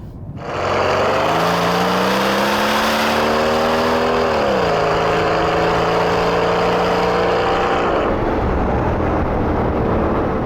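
A Mercedes CL65 AMG twin-turbo V12 roars loudly as it accelerates hard, pitch climbing steadily with one gear change midway before easing off near the end.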